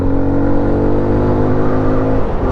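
A 2020 Kawasaki Z125 Pro motorcycle, a small roughly 7-horsepower bike, cruises in top gear with a loud, steady buzzing engine drone and layered harmonic whine, recorded close with no talking.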